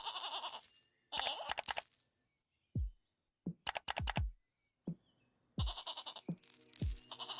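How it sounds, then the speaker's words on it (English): Goats in the video game Megastore Simulator bleat repeatedly in loud bursts, mixed with short clinking blips and brief pauses between calls. "The goat sound is going to be in my head all night."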